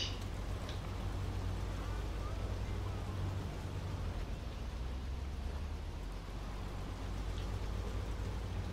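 Rain falling in the SnowRunner truck game, Michigan map, a constant even patter with a low engine hum underneath throughout.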